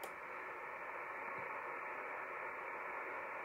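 HF amateur radio static through a Yaesu MLS-200-M10 extension speaker with an antenna connected: steady, loud hiss and crackle that runs unbroken from start to end, with no voice or signal emerging.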